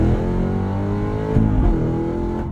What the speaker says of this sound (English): holding in the clutch, going into first gear, hitting the throttle, holding the revs,